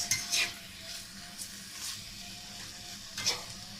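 Spices (turmeric, ginger and salt) stirred into a sizzling pan for lasagne, with soft scraping strokes over a steady low fry; a few brief utensil clinks against the pan.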